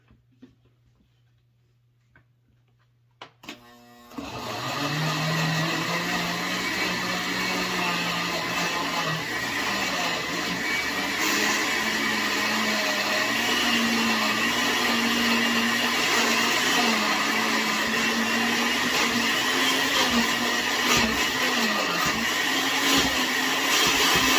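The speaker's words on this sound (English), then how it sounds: "2 chipotle pepper. I'm gonna blend this here." A countertop blender purees chipotle peppers for carnitas-style bear tacos. After a few quiet seconds with faint ticks, the motor kicks in loudly and whirs steadily and close for about twenty seconds, its pitch shifting slightly as the contents churn.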